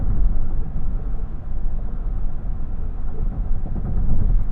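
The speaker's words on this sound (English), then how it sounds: "let you hear what the Navigator sounds like at 70" Low, steady road rumble and tire roar inside a 2020 Lincoln Navigator cruising at 70 mph on a highway, droning continuously at a moderate level with no talk.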